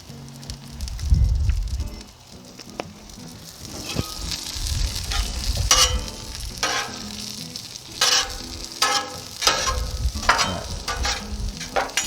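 Potatoes fry in oil on a Blackstone 28-inch Pro griddle, giving a steady close-up sizzle with scraping and stirring clatter from a spatula. Occasional louder crackles rise over the hiss.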